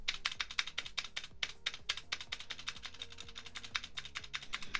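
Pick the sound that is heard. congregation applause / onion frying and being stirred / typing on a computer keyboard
typing on a computer keyboard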